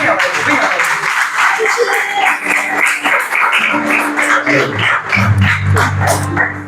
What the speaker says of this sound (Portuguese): A igreja pode louvar a Deus com palmas